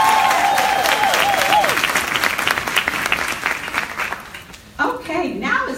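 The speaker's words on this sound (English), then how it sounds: "Give them another big round of applause." An audience at a sales event claps loudly and continuously, with an amplified voice speaking over the start before the clapping tapers and the speaker talks again near the end.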